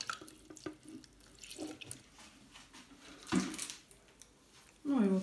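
Warm water mixed with fertilizer poured generously over Vanda orchid roots, running and splashing in uneven bursts with louder gushes, while someone talks over it.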